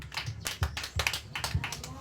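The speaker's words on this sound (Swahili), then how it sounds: "Pigie Bwana makofi mazuri kama tuko pamoja" A church congregation clapping for the Lord during a sermon, scattered hand claps in an uneven rhythm, with voices talking and responding over them.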